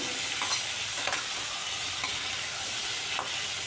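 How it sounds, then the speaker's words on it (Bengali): Rohu fish curry with tomato, squash, potato and salt, tempered with nigella seeds, sizzles and fries steadily in a pan while being gently stirred, with a few soft scraping strokes over the constant hiss. "এবার একটু হালকাভাবে নাড়িয়ে নিচ্ছি।"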